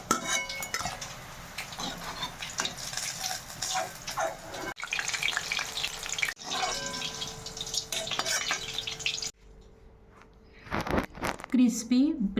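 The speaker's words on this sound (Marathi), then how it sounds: "तेल गरम झालेलं आहे, तर तळून घ्यायचं." Bread rolls coated in crumbs deep-fry in hot oil with a busy bubbling sizzle and utensil clatter, broken by brief gaps, before quieter handling sounds and a voice speaking near the end.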